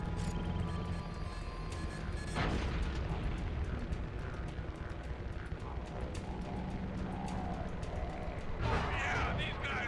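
Missile explosions from the video game Sly 3, a loud burst near the middle and another near the end over dense, continuous game noise, with a voice talking through.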